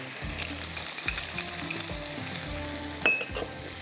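Cumin, black pepper and ginger garlic paste hit hot oil in a pot, sizzling loudly up close with spoon stirring and a clink of utensils, without speech.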